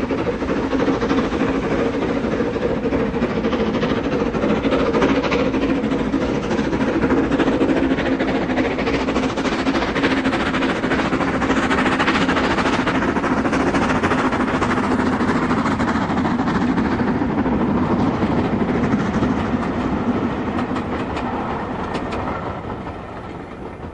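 LMS 7F steam locomotive 53808 hauls a goods train with a steady, continuous rumble and the rhythmic clatter of wagons rolling along the rails, fading slightly at the end.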